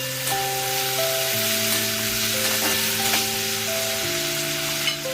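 Cherry tomato pickle with tamarind is stirred in a pan, giving a steady soft sizzle and faint scraping throughout, partly under sustained background music tones.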